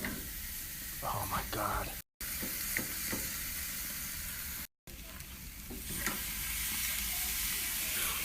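Chicken breast hits a hot pan with a steady, close sizzle for a Caribbean stew chicken, briefly cut out twice; a voice speaks softly over the frying.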